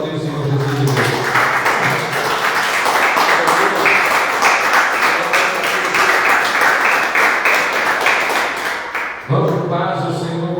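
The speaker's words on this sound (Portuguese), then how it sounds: "Vamos aplaudir o Senhor Jesus de novo." Church congregation applauding at a Sunday service, loud sustained clapping mixed with voices and a music backing, running several seconds before dropping suddenly near the end.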